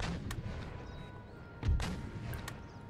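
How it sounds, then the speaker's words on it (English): Mortar fire in a battle in the video game Empire: Total War: a few booming thumps, the heaviest near the middle, over steady battlefield din with scattered sharper cracks. "Yeah, mortars are firing"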